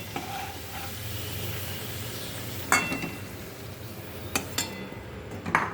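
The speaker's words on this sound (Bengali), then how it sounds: "আলুটা আর একটু চাপা দিয়ে দিয়ে ভেজে নিই" Potatoes fry in hot oil with a constant soft sizzle, pressed down and stirred, and a few sharp metal clinks of a spatula against the pan ring out nearby.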